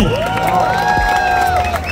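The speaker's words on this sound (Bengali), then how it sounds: "জোরে একটা হাততালি হবে।" A crowd cheers and applauds at the opening of a CFMoto motorcycle showroom in Narayanganj, Bangladesh. The noise is loud and steady for two seconds, with a sustained tone running through it.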